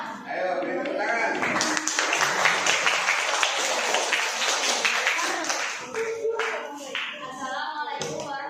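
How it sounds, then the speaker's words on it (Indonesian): A classroom of students applauds a student presenter, with dense, loud clapping from many hands building quickly, holding steady for several seconds, then thinning out into scattered claps near the end. "Ayo, beri tepuk tangan."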